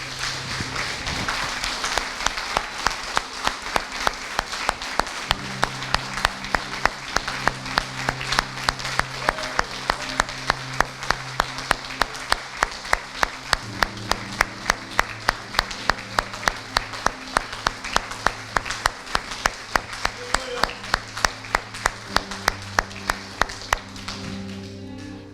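A church congregation at a Sunday service applauds steadily and loudly for a sustained stretch, many hands clapping together over a low sustained organ or keyboard chord that shifts pitch beneath the sound.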